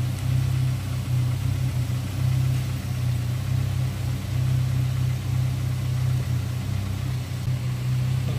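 A car engine idles steadily during a jump start, a loud, even low hum with a slight throb that holds without change from start to end.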